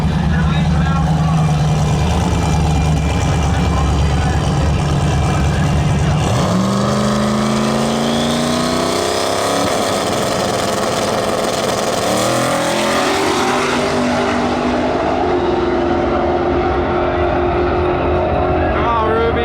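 Drag race car launching hard off the line with wheelspin and a wheelie, its loud engine roaring and rising in pitch through the gears, nearby and continuous, with people talking over it.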